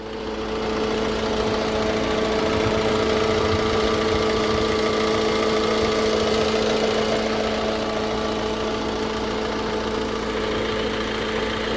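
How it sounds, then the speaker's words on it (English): A Vauxhall/Opel Combo C engine, recently failing to start, idles steadily with a continuous low hum and mechanical clatter, up close, with no talk. "let me disconnect my charger, and I'll show the engine running"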